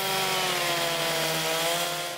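A chainsaw carves into a wooden log, its engine holding a loud, steady, buzzing whine with rich harmonics and gritty cutting noise throughout, close by and with no voices.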